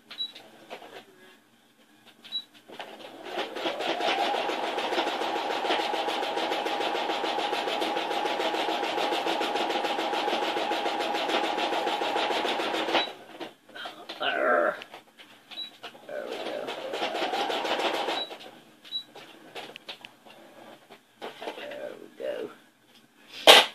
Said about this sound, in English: We're going to sew this one.